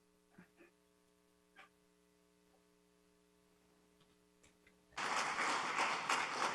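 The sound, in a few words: audience applause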